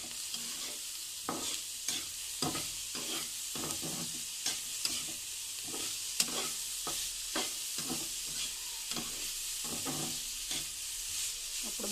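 Turmeric and salt being stirred through frying food in a pan, with steady sizzling under repeated scraping strokes of a spoon in an irregular rhythm, close and fairly quiet, with no talking.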